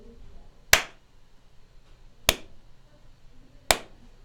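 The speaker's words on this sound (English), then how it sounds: "I'm gonna clap my hands to see how much of a delay there is" Three single hand claps, spaced evenly and crisp against near silence, made as an audio sync test.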